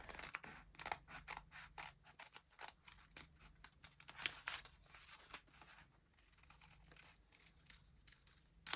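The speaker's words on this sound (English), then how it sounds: "keep the paper folded and carefully cut along the lines you've just drawn" Scissors snip through folded paper while cutting out a reusable cloth sanitary pad pattern, close and quiet, with many quick crisp cuts in uneven bursts and no talking.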